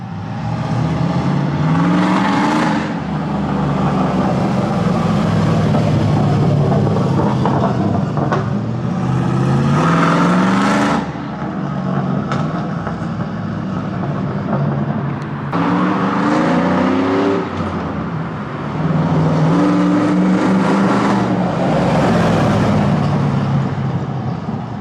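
A Z71 Silverado truck with long tube headers, heard from inside the cab, roars through repeated rising revs and gear pulls, loud and throaty with brief dips between climbs.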